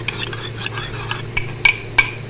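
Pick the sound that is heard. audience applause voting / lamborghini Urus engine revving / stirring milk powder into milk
stirring milk powder into milk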